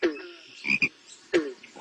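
Two croaks from a frog, each a short low rasping call, loud and close, with a brief pause between them and no talking.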